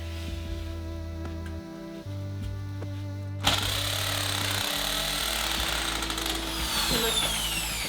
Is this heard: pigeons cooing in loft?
no